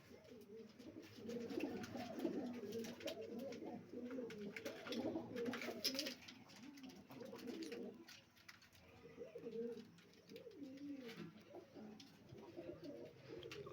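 Continuous low cooing from a group of pigeons, overlapping murmured calls rising and falling steadily, soft and close with faint background noise.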